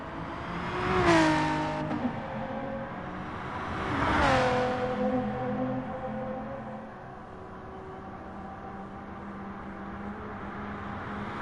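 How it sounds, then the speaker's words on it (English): A race car engine in a racing video game roars through the Nordschleife entrance at the Nürburgring during night practice, with two loud revving surges about three seconds apart before settling into a steady high-pitched drone. "As NGR Scotty blasts it through the entrance Nordschleife section of the racetrack."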